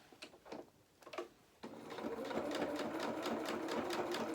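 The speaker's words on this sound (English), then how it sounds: "And you're aiming ideally to sew in between those two lines of your gathering stitches." A sewing machine stitches fabric between gathering lines on a small doll jacket. A few soft handling clicks come first, then the motor runs up into a steady, close, rapid whir that continues to the end.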